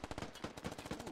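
Automatic weapons fire in the military shooter game Squad: a rapid, rattling burst of shots in quick succession, fairly quiet and somewhat distant, with no one speaking.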